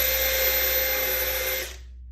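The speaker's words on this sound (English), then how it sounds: "Drilling time." A power drill runs steadily at high speed, biting into a workpiece held in a vise, its loud continuous whine holding for nearly two seconds before the motor spins down and trails off.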